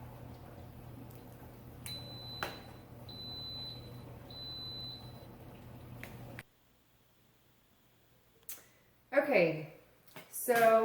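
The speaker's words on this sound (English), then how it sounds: "my Instant Pot has just beeped. It's finished cooking." An Instant Pot electric pressure cooker beeps when it finishes cooking dried beans: a string of high, clear beeps in several short bursts over a steady kitchen hum, then a quieter pause before a person starts talking.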